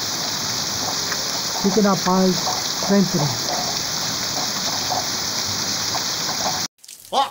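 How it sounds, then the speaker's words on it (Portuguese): Heavy rain pours at night in northeastern Brazil, a dense, steady hiss that runs throughout while someone speaks briefly over it, cutting out abruptly near the end. "Muita chuva mesmo."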